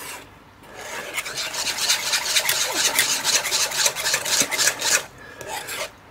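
Whipped cream being folded into pastry cream for a Saint-Honoré, a steady rasping scrape of a utensil against a bowl, repeated in quick strokes for about four seconds, close and fairly loud with no voices.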